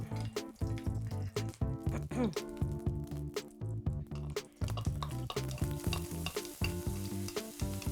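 Onions sizzling in a pan while being stirred, with frequent scraping and clattering of a utensil against the pan, close and busy.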